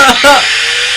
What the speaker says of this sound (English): Angle grinder is a very strong and dangerous tool